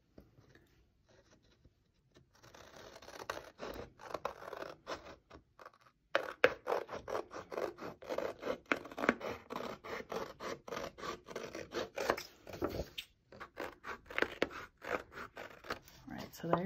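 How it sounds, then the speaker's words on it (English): Scissors cut out a paper envelope for a bluebird pop-up box, a close run of rapid crisp snips and scratchy paper rustle that starts faint and grows steady, with a voice talking over parts of it. "the last thing to cut out is the envelope"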